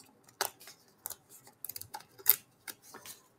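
Paper tickets being snipped apart with scissors at close range, a quiet run of short crisp cuts and clicks spaced irregularly, with no voices.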